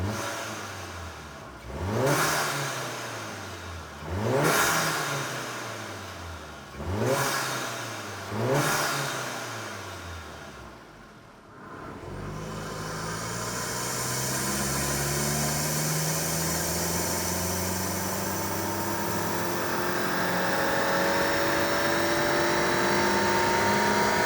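A VW EA888 engine fitted with a GruppeM intake, run on a dyno. It gives four sharp rising revs in quick succession, each falling away, then a sustained climb to high rpm with a loud, steady roar. No voices are heard.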